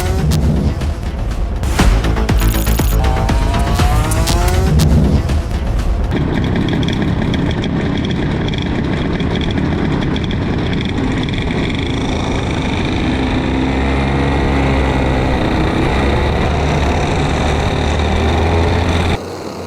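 Pack of race cars charging three wide into the first turn, a dense, loud mix of engine howl with bursts of sharp tire squeal early on, then a steady roar of the field continuing through.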